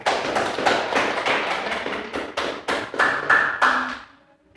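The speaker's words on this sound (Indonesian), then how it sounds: "Berikan tepuk tangan untuk Ibi." Classroom applause for a student, a group of students clapping in rhythmic bursts that swell and then stop abruptly, close and loud.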